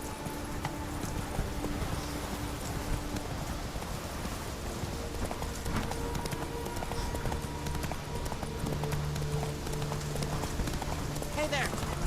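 Roach the horse's hooves clip-clop steadily through The Witcher 3, a continuous rhythmic trot mixed with game ambience and voices.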